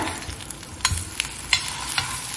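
Raw banana slices sizzling and frying in a pan, a steady hiss broken by scattered sharp crackles as they are stirred.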